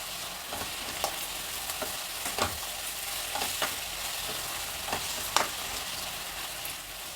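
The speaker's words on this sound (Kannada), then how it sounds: "ಇದನ್ನೀಗ ಚೆನ್ನಾಗಿ ಫ್ರೈ ಮಾಡೋಣ" Peas, onion and fenugreek leaves frying in a pan, a steady close sizzle punctuated by regular light scraping strokes of a spatula stirring the mixture.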